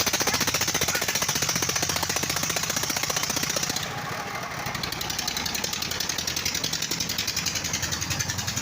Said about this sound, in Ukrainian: Це такий мотор від мотоблоку.